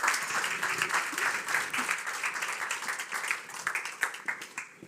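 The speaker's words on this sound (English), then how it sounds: "I'd like to give a round of applause for our two lovely guests" A conference audience applauds its two guests at a Nordic conference, steady dense clapping filling the room from start to finish, with a few sharper individual claps standing out near the end.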